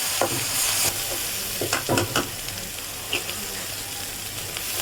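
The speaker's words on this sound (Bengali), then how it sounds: "এখন মশলাটা ভালো করে কষিয়ে নেব" Ginger garlic paste and turmeric sauté in a pan with a steady sizzle, scattered scraping stirs and soft clinks, close and moderately loud.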